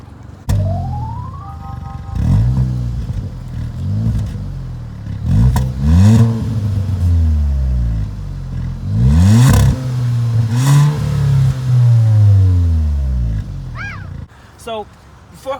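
A 2019 Hyundai Veloster R-Spec engine revs repeatedly, its exhaust rising and falling in loud, close bursts of acceleration, with a brief electronic chirp near the end.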